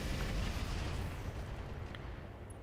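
A heavy mech weapon fires in the Battletech mech combat game, a dense, rumbling blast that booms low and holds steady before tapering slightly, loud and close with no talk.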